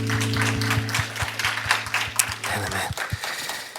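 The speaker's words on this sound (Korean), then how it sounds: "우리 감사와 영광의 박수를 드리겠습니다" Worship congregation at a church service applauding, a steady wash of many hands clapping over a sustained low organ or keyboard drone, fading out toward the end.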